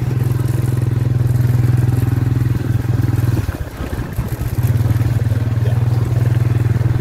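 A motorcycle taxi (ojek) rides along a mountain path, its engine holding a loud, steady low drone that briefly dips and clatters over rough ground before picking back up.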